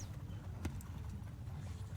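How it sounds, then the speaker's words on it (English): Hooves of a horse trotting in a video game make a steady, quiet clip-clop over a low background rumble, close and without speech. "I'll redirect my horse and gallop over to one of them"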